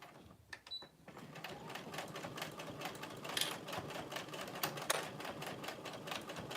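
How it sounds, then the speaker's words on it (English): A sewing machine runs fast with a rapid, steady stream of mechanical ticking and clatter, fairly faint and close, without any talking. "I've sometimes forgot sewing machines could go fast."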